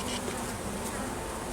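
Honeybees buzz in a dense, steady drone from an open hive of frames holding honey, bee bread and fresh brood, opened for winter preparation; the hum stays close and continuous, with no talk over it.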